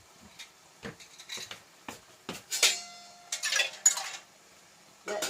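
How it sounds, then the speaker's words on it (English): Sharp glassy clinks and knocks, several in a row, as jam jars are set down into a pot of boiling water, with a light bubbling hiss under them. "we're just going to pop the jars into the boiling water"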